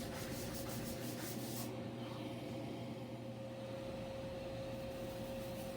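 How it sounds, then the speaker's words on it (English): A Festool sanding block works a waterfall edge with hose dust extraction running, giving a steady, close rubbing hiss over a constant vacuum drone, with a brighter scratchy burst early on and no talk. "notice in this video how I'm sanding the waterfall edge and there's no puffs of dust"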